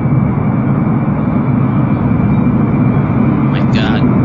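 An airplane on its landing run produces a loud, continuous, broadband engine roar that holds steady throughout, with a brief higher whine near the end.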